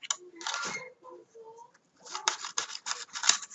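Scissors snip through cardboard to trim box tabs in half, giving several crisp, close cutting strokes in two bursts separated by a short pause, with a faint voice between them.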